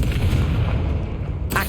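A Confringo fire spell going off in Hogwarts Legacy, heard as one loud, deep, rumbling blast lasting most of the moment, followed by a short crackling burst at the end.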